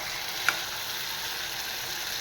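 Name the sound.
vegetable frying in peanut oil tempering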